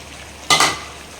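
Chicken thokku frying in a pan gives a constant low sizzle. Partway through, a short, sharp stirring scrape cuts across it, and no one speaks.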